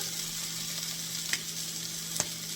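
Onions sizzle gently in a pan on a stove turned down low, a quiet, steady frying hiss with a couple of faint clicks from stirring or the pan.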